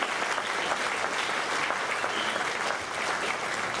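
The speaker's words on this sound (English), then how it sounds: "Give them a big round of applause for keeping this going every year." An audience applauds steadily at a polka hall of fame induction ceremony, a dense, even wash of many hands clapping throughout, fairly distant and moderately quiet, with no talk over it.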